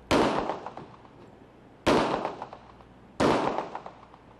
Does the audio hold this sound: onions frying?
no